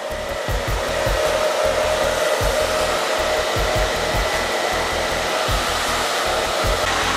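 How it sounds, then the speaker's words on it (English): A hair dryer runs steadily on a low setting, a continuous whirring blow with a faint pulsing flutter, close and unbroken throughout. "And just put your dryer on low."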